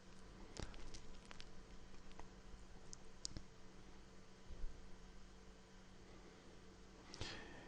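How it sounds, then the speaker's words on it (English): Computer mouse clicking on links, a few sharp isolated clicks spread over a faint steady hiss, with no one speaking. "if I click on any of these links"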